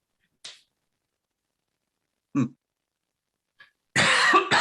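Short dry coughs from a person during a spoken discussion: a few sharp, isolated bursts spaced well apart, then a longer, louder, rougher burst at the end, with silence in between.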